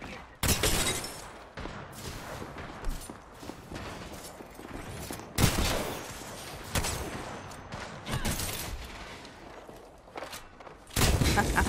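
Video game gunfire crackles in repeated bursts and volleys across the stretch, loud and sharp with brief pauses between, and the shooting runs on its own with no voice over it.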